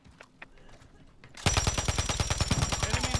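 Rapid automatic gunfire from a battle royale video game bursts in after a quieter stretch of faint clicks and footsteps, a loud, steady rattle of closely spaced shots continuing to the end.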